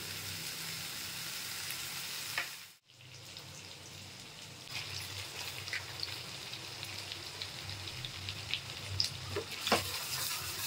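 Onions frying in a pan for prawn bhuna curry, a steady soft sizzle with a brief dip near the start, then a continuous crackling hiss with scattered pops.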